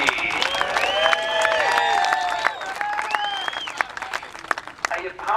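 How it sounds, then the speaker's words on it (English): A crowd claps and cheers at a sprintcar raceway trophy presentation, a moderate burst of applause under an announcer's voice on the public address. "Can I get a round of applause for Mr. Speed, Matthew Reed?"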